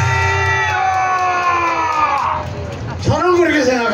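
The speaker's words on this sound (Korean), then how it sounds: "이 애국 시민에 대해서도 큰 박수 한번 해주시기 바랍니다." A political rally crowd cheers loudly, with whoops, shouts and a sustained roar of voices; a loud rising yell cuts in near the end over the ongoing crowd noise.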